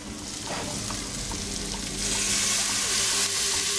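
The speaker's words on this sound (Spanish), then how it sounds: "Los echamos a la sartén. Los rehogamos. Echamos el coñac." Leeks sautéing in a frying pan with cognac added, giving a steady, close sizzle that swells louder partway through as the liquid hits the hot pan.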